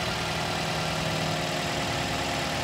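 Toyota GLi car engine idling after being newly fitted to replace the engine in a car that had been overheating, a steady continuous rumble with a low hum, close and moderately loud, with no voices over it.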